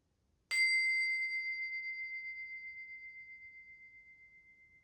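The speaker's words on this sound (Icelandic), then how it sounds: "Að venju þá ætla ég að hefja stundina með þessum fallega bjölluhljómi." A single bell chime struck once at the start of a session, ringing clear and bright after a quiet lead-in and decaying slowly with a gentle pulsing shimmer.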